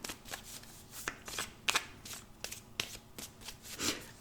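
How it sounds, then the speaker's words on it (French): Tarot cards are shuffled and cut by hand, a series of soft riffling bursts and sharp card taps, close and fairly quiet. "Alors ici, je coupe et puis je fais mes 3 tas de cartes habituelles."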